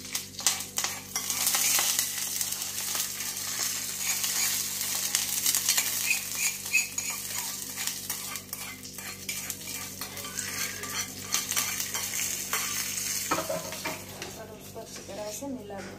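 Curry leaves hit hot oil for a tempering, giving a bright, steady sizzle with scraping and stirring of a utensil against the pan, continuing for several seconds before tapering off with clinks near the end.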